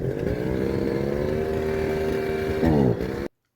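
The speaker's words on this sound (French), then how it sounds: "il faut que c'est une tronçonneuse" A chainsaw engine runs at a steady buzzing drone, then revs up sharply near the end before cutting off abruptly into silence.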